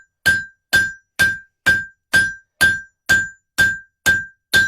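Metal being hammered by hand, shaped from polygonal toward round: ten evenly spaced, ringing blows in a steady rhythm, each with a bright metallic ping, close and loud with no talking.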